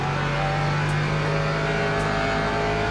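Race car engine in the sim racing game Le Mans Ultimate, a loud, sustained steady drone with tonal whine, holding constant at high revs over three seconds with no voices.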